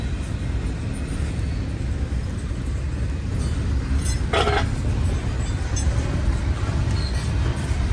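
Graffiti-covered train rolling past in Berkeley, a steady broadband rumble of wheels and cars that stays loud and close throughout, with a brief metallic clink partway through.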